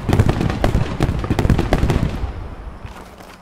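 Crackling blasts and rapid popping bursts from grenade explosions and gunfire in the World War II shooter Post Scriptum, loud and dense at first, then thinning out toward the end.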